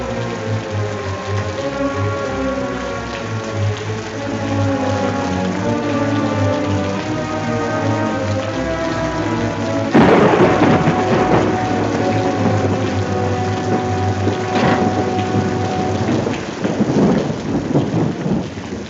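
Heavy rain and rolling thunder in an old-time radio drama set in a storm, steady downpour with a loud thunderclap about halfway through and continued rumbling afterward, no voices.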